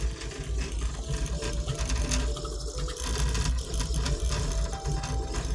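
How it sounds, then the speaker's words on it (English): A fast Sovol SV06 3D printer running Klipper rattles and whirs continuously, its spool holder clattering over busy mechanical motor noise. "the spool holder is making most of that noise"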